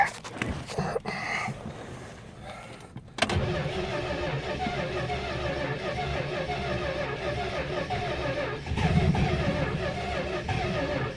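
An abandoned 1969 Dodge Dart V8, started for the first time in years and slightly flooded, cranks briefly before catching. It then runs as a loud, steady, close rumbling idle.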